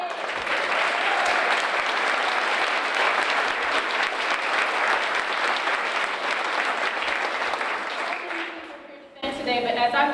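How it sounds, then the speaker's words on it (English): Sustained applause from a crowd at a library donor event honoring the Callahans, loud and steady for about nine seconds before fading out, followed by a brief voice. "I just want to give a big round of applause to the Callahans for the work that they did"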